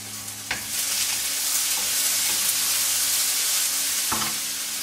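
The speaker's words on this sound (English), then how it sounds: "So we just keep crumbling in the tofu like so" Crumbled, already-cooked tofu is heated and stirred in a pan, giving a steady close sizzle throughout, broken by a few sharp scrapes and knocks of the utensil, with no voices.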